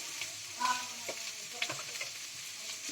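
Chilli powder and cumin powder stirred into spinach greens curry frying with fish oil in a pan, a close, steady sizzle broken by light scraping strokes of the spoon.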